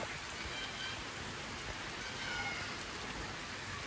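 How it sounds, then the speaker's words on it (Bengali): Midday rain pours steadily onto a rooftop, a dense even hiss of drops hitting the surface that holds at a constant level throughout, with no voices in the clip. "এই যে দুপুর টাইমের বৃষ্টি"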